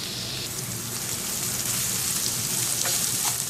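Chopped onion, ginger, green chilli and curry leaves hit hot coconut oil in a pan, giving a loud, dense, continuous sizzle that holds steady like heavy rain throughout.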